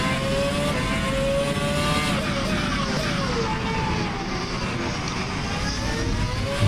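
A Formula One car screams through the gears in a racing video game at the Circuit de la Sarthe, Le Mans, its high engine whine climbing and dropping with shifts, loud and continuous, with other cars faintly behind.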